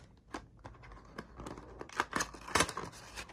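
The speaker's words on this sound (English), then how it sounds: "So let's first peel off the plastic covering" Plastic film being peeled off a wireless earbuds box makes close, irregular crinkles and sharp tearing snaps, scattered at first and then coming in quicker bursts toward the end.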